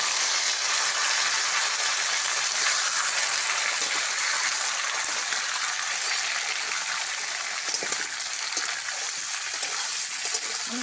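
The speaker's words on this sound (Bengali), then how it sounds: "এবার আমি দিয়ে দেবো পেঁপেটা" Chopped papaya hitting hot mustard oil with fenugreek seeds in a wok gives a loud, continuous hiss that holds steady and close the whole time, with a few faint clinks near the end.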